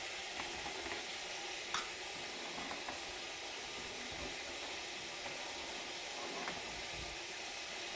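Urad dal and mustard seeds sizzle steadily in hot oil, a dense crackling hiss running close and loud for the whole stretch with a few sharper pops.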